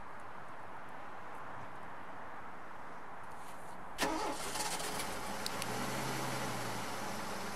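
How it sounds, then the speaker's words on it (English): Out of a faint, quiet outdoor background, a truck engine cranks and catches partway through, then settles into a low, steady idle at a moderate distance. "He noted the sound of the truck when it started"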